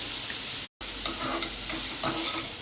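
Thinly sliced onion with a pinch of salt fries in a pan, a soft, steady sizzle with a few light stirring scrapes and a brief dropout partway through.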